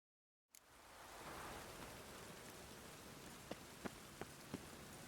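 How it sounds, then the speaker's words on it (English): Steady rain pours in The Witcher 3 game world, a dense even hiss of rainfall on surfaces that starts abruptly, with a few distinct drips or light taps standing out near the end. "I like rain. Keeps the rogues indoors."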